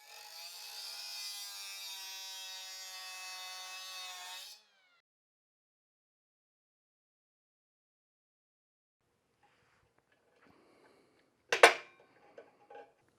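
A small grinder cuts steel fuel line tubing with a steady, harmonic-rich whine lasting about four and a half seconds. The whine stops abruptly, followed by a long silence and then a single sharp metallic clank with a few faint knocks.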